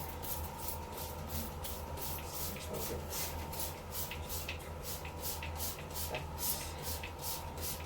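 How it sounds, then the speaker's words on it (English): Quick, repeated spritzes from a spray bottle spraying water onto a deep wave wig pulse in a steady rhythm over a low background hum. "Just spray water all over."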